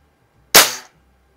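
A single sharp crack from an Anschutz model 335 break barrel air rifle being fired, loud and close, decaying quickly into silence.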